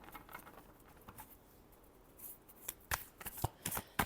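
Tarot cards shuffled by hand during a reading, a quiet run of soft papery riffles and taps that grows busier toward the end with several sharper snaps.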